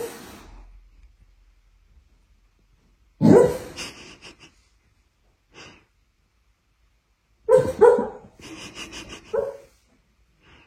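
Dogs on a rainy walk give two clear bursts of barking and snorting, one near 3.5 seconds and a longer one near 8 seconds, with soft breathing and quiet gaps between them.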